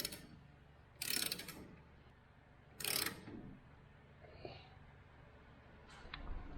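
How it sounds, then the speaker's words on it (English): Ratchet tightening a bolt during a head gasket job on a 1951 John Deere A, two short bursts of close, fast clicking with faint metal taps and quiet workshop background between. "let's get the ratchet and then we'll get it on the rest of the way"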